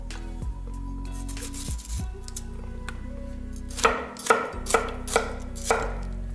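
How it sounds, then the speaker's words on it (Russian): A knife dices a bell pepper on a cutting board, with some handling noise first and then about five sharp, evenly spaced chops close by. "Нарезаю его таким вот кубиком."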